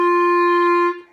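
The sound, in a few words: clarinet note articulated with the tongue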